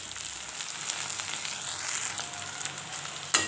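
Brinjal pieces frying in oil for a Tamil brinjal gravy, with a steady close hiss and crackle that stays level throughout, ending on a single sharp knock.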